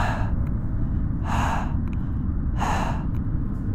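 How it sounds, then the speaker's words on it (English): Heavy, ragged breathing from a horror video game, From The Darkness, rises in slow drawn-out breaths about every second and a half over a low, constant ambient rumble. "You hear that breathing?"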